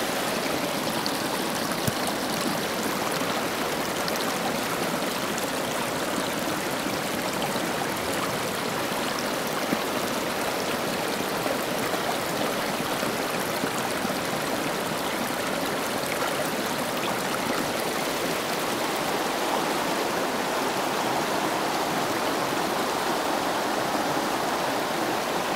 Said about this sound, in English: let's try it again with the stronger sound of water.